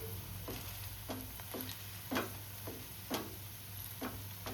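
Round cabbage fritters sizzle in a pan of oil, a constant quiet crackle punctuated by regular light taps and scrapes of a spatula every half second or so, with a faint hum underneath and no talk.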